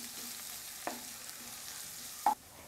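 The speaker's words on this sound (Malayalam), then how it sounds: "പച്ചമുളക് ഇത്രയും ചേർത്തിട്ട് നമുക്ക് ഇത് നല്ലതുപോലെ ഒന്ന് മിക്സ് ചെയ്ത് കൊടുക്കാം" Green chilli, ginger and garlic stirred and frying in a pan, a soft steady sizzle with a couple of brief scraping stirs, close and alone with no talk.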